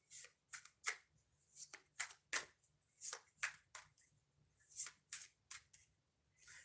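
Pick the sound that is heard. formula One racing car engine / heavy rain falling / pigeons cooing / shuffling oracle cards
shuffling oracle cards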